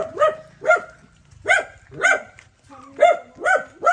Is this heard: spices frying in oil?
no